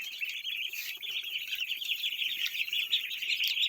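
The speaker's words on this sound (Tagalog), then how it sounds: "Yun na po sila mga Kapong Steve, yung ating alagang itik ay malaki na po sila" Pet ducks, now grown, make a continuous cluster of high, thin chirping and peeping calls at moderate volume, with no talking.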